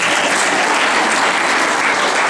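An audience at a clipper haircutting class keeps up close, loud, continuous applause, with many hands clapping in an even, unbroken roar.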